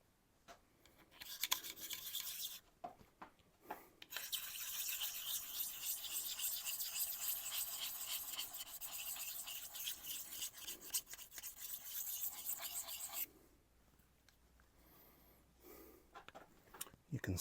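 A knife edge rasps steadily against a Tormek sharpener's honing wheel as the burr is removed, a continuous bright scraping lasting about nine seconds, bracketed by a few short knocks and quieter handling sounds.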